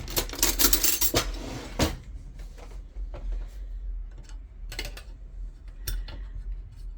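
A metal cake pan flipped over onto an upside-down cooling rack on a kitchen counter, giving a burst of close metallic clattering and rattling, then a few lighter clinks and taps over low background hum.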